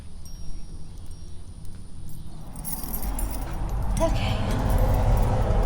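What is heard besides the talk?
keys jangling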